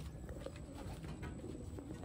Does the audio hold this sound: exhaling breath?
no